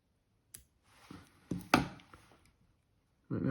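Scissors trimming tying material on a nymph fly, with a handful of short, crisp snips and clicks close by, spaced irregularly, followed by a brief louder rustle at the end.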